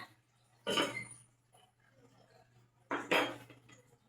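Two distinct metallic clanks as a lid is set on a pot of chicken adobo, each loud and close, separated by a few seconds of quiet kitchen hum.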